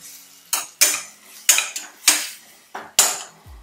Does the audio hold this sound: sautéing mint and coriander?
yes